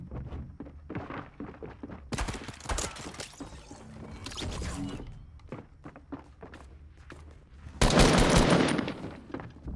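Gunfire in the video game Fortnite: bursts of rapid shots and thuds cluster in the middle and near the end, loud and close, with no talk over them.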